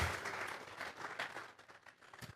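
A church congregation claps hands together as an offering, a rolling wash of applause from many people that is quite soft and gradually thins out.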